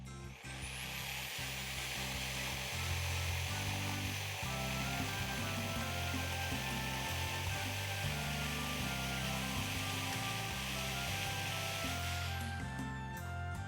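A power saw cuts a wooden headboard piece clamped with a plastic protector, a steady loud whining buzz running almost the whole time before winding down near the end, with no talk.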